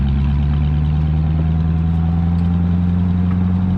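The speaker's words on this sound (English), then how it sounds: "Valves are open right now, obviously it's loud" A deep, loud engine burble from a Corvette C7 Z06 Carbon Edition with exhaust valves open rumbles steadily, a throaty idle with strong low exhaust tones and no talking.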